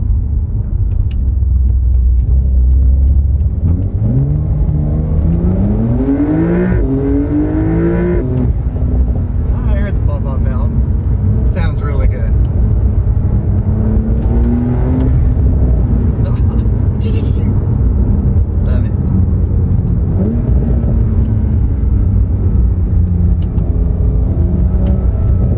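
A Porsche engine in sport mode accelerates hard, its revs climbing in loud sweeping pulls and dropping between gears, with a steady road rumble underneath throughout.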